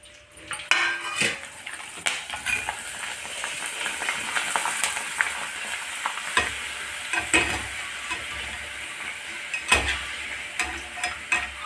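Evening snacks frying in hot oil, with a steady sizzle and bubbling under repeated scrapes and clinks of a metal utensil stirring in the pan, close up and fairly loud.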